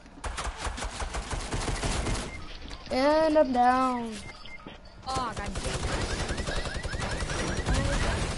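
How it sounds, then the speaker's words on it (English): Rapid automatic gunfire rattles continuously in a shooter video game, dense and close, with a voice talking over the shots and a brief tonal sung or game sound in the middle. "And I'm getting shot behind me."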